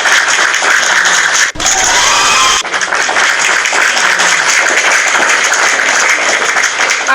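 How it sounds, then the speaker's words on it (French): Loud, sustained audience applause, a dense, even roar of clapping with a brief dip partway through, at close range and without speech. "On s'applaudit."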